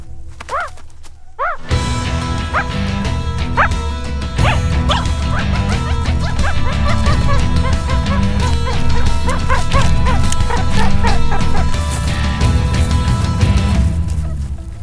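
High-pitched squeaky begging calls from a young meerkat, repeated chirps and whines over a loud musical background.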